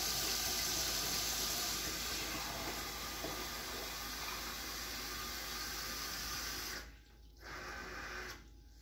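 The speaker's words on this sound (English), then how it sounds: "Two cups of warm water goes into the mixing bowl." Two cups of warm water poured into a mixing bowl for soft pretzel dough, a faint steady splashing stream that stops near the end.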